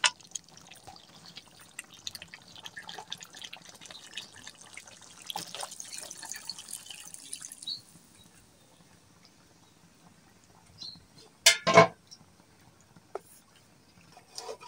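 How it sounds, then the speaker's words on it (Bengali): Water is poured into a pot of simmering broiler chicken curry to make gravy, a few seconds of splashing trickle followed by quiet, then a sharp clatter of a lid or utensil, close up. "তো এখন আমরা ঝোলের জন্য পানি দিয়ে দেব।"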